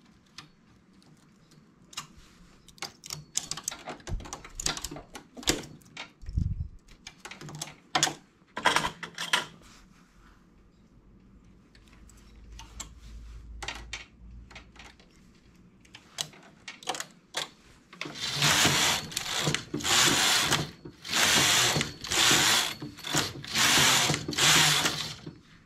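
A domestic knitting machine carriage working a knitted top, with irregular mechanical clicks and rattles early on, then a run of loud, rapid back-and-forth carriage passes near the end.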